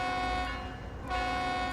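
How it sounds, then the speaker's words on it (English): Locomotive horn in the video game Train Sim World 3 on Cajon Pass sounds two loud, close, sustained honks, rich and chord-like, with a brief dip between them. "Couple of big honks."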